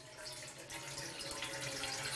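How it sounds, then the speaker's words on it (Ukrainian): Tap water running into a sink in a Ukrainian home, a soft continuous hiss and splash heard alone and fairly quiet. "З першого погляду з крана тече звичайна чиста вода."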